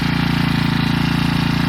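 A grass cutter's small engine runs close and loud at a steady pace, its exhaust putting out a rapid, even pulsing drone with no pauses or voices.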